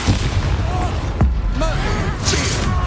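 Bombarda blasting spell exploding in the Hogwarts Legacy video game during combat: a loud booming burst over a dense, busy game mix, with a short sharp impact midway.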